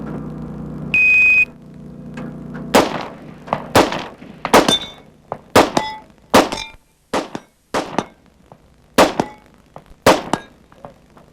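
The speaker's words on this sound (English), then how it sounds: "Nice shooting by Joe Hamilton." A timed Steel Challenge shooting run from 1989: a short start buzzer, then about ten sharp, loud gunshots fired at uneven intervals with brief silences between them.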